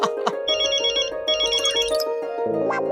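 A mobile phone ringtone plays loud and close, a bright electronic melody with repeated phrases and a short pause before it resumes.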